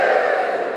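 Comedy club audience cheering at a stand-up show, a brief, steady crowd roar with no individual voices standing out.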